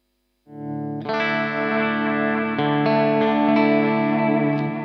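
Sustained electric guitar chord ringing out through delay and modulation effects, loud and up close, with a second strum joining and smaller pick attacks layered over the shimmering, slightly distorted wash.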